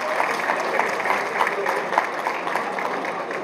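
An audience at an economics solidarity event applauds to welcome a speaker to the stage, dense continuous clapping from a sizeable crowd, moderately loud and close.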